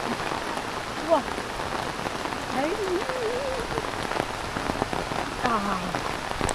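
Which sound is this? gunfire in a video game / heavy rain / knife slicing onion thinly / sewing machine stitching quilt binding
heavy rain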